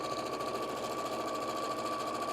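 A sewing machine stitches through the pinned edges of a quilt, a steady, fairly close mechanical whirr with a fine rapid pulse running unbroken and alone.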